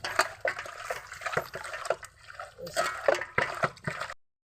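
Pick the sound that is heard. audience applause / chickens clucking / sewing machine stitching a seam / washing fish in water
washing fish in water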